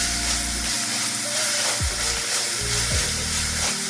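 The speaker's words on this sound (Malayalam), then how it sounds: "ഇഞ്ചി പച്ച വെളുത്തുള്ളി പേസ്റ്റ് ഇട്ട് കൊടുക്കുക" Ginger and green chilli garlic paste hits a hot pan for egg curry, a loud, dense close sizzle with a few spoon scrapes across the pan.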